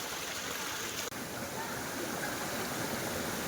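Water rushes down a cold mountain stream on Mt. Banahaw in Quezon, a loud, close, continuous roar that fills the scene with one brief dip in the middle.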